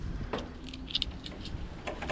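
Light metallic jingling of tractor keys in short clusters as they are handed over, fairly quiet, against a faint background hum, no talking.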